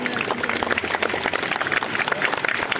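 Dense, lively applause from a live show audience, continuous, close and fairly loud throughout.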